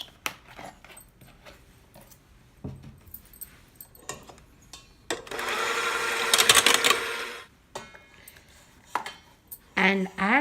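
Whisk or spoon clattering against a bowl while mixing homemade blueberry waffle batter with two cups of milk, a busy scraping burst midway between lighter taps and clinks, close and fairly loud with no talk.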